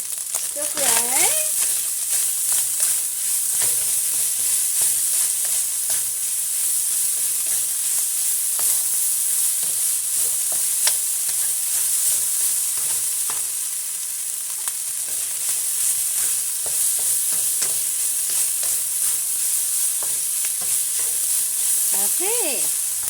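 Ginger and green onions stir-fried in a hot pan for pork spring rolls, a loud continuous sizzle with intermittent scraping and clinking of the utensil against the pan.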